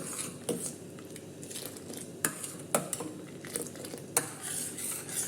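Milk heating in a pot for cooker payasam is stirred with a spoon, giving faint, scattered clinks and scrapes against the metal over a soft background hiss, with no one talking.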